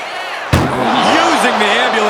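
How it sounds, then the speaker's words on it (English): A loud, sudden impact as a wrestler is slammed against an open ambulance door in a WWE 2K wrestling game, a single sharp hit followed by sustained crowd noise and a voice. "Using the ambulance door as a weapon."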